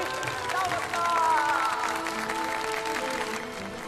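Applause and crowd noise greet a cricket player, with dense, steady clapping throughout and voices and tonal sounds mixed over it.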